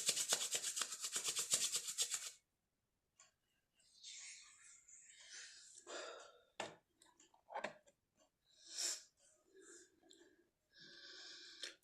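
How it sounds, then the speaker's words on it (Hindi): Hands rub briskly together for about two seconds during a meditation session, making a dry, rhythmic rasp, followed by quieter scattered rustles and breaths. "अब दोनों हाथ रब करके"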